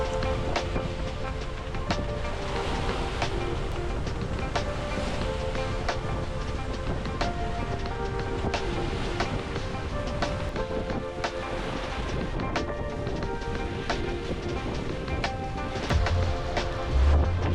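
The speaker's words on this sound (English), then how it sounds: "We are sailing again! Finally!" A sailing boat moves through ocean waves and wind on a passage from New Caledonia to New Zealand, giving a dense, constant roar of rushing water and wind buffeting close to the microphone.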